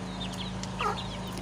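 Aseel chicks on a farm give faint, high, rising peeps and soft clucks while being fed, a few brief calls over a steady low hum.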